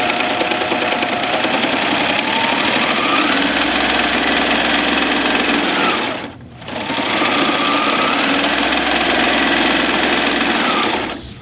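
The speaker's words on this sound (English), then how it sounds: "Now I'm going to serge the short edges" A serger machine stitches the short edges of fabric for a face mask, running loud and steady in two long continuous bursts with a brief stop between them, with no talking over it.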